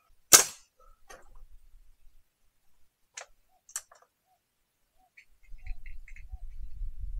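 A sharp crack of a CBC B19 air rifle shot, followed by a few fainter snapping pops spaced seconds apart, then low rumbling noise toward the end.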